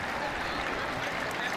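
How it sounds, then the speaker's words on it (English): A stadium crowd at a Colorado vs. Idaho State college football game applauds as an injured player is helped off the field, a steady, distant wash of clapping with no breaks. "Nice round of applause here as Peoples will be helped off the field."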